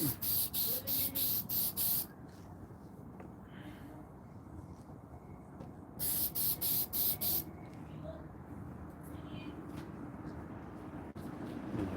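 Two bursts of short, rhythmic hissing sprays from a spray can inside a 1984 Buick Regal, several quick puffs each, close by, separated by a quieter stretch of background noise.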